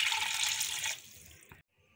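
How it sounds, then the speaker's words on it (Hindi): Water from a tap pours into a cooking pot already holding salt and turmeric for beef karahi, a loud steady rushing for about a second that tapers off and then cuts to silence. "अब इसमें एक कप के करीब पानी डाल देंगे।"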